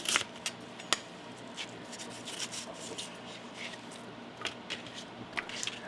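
A knife slices a small onion bulb thinly, making faint crisp cuts and light scraping at an uneven pace, quiet and close with no talk.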